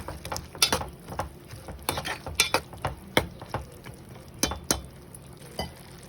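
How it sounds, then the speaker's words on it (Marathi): Ground spice paste being stirred into a bean curry of dried field beans in a pan, a series of uneven scraping taps and clinks of a spoon against the pot over a soft background, fairly quiet. "असं हे छान ढवळून घ्यायचे आहे"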